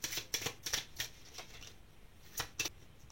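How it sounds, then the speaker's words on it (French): Oracle cards are shuffled and one is drawn from the deck, a quick run of close, crisp card flicks followed by a pause and two more soft snaps. "On va tirer une dernière carte d'oracle."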